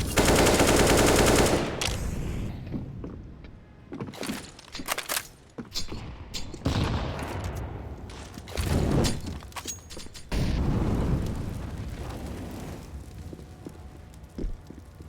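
Grenades and flashbangs go off in a competitive Rainbow Six match on the Vertigo map, a dense run of loud blasts and rapid gunfire bursts close by over about fifteen seconds, with no talk.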